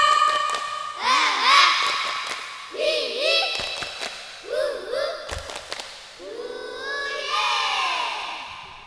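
Children at a Quran graduation ceremony at an Islamic learning center perform a rhythmic chant, voices rising in repeated bursts with sharp claps and thuds between phrases, loud and close.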